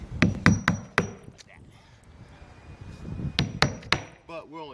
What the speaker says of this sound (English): I set my nails underneath all these marks except for the bottom one